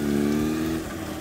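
A Honda CBR1000 Repsol motorcycle engine runs while riding, a loud, close, steady hum that eases slightly partway through, with no voices heard.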